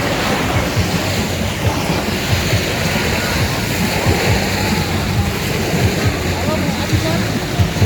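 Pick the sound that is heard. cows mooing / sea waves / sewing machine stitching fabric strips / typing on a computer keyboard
sea waves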